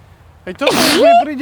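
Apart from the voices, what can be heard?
sneeze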